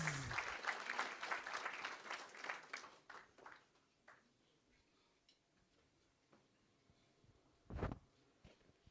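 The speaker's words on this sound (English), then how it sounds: "Give a round of applause." Audience at a public event in Kenya breaking into applause, a dense burst of clapping at the start that thins out and fades within a few seconds, followed by a quiet room with scattered claps.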